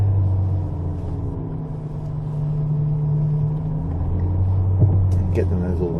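A supercar's engine rumbles steadily at low revs as it rolls slowly through a gap at Rockingham circuit, a continuous loud drone with a brief rise near the end.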